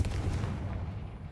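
A Confringo fire spell blast in the video game Hogwarts Legacy: a single booming, fiery burst with a deep low thump that quickly fades into a rumbling tail, moderately loud.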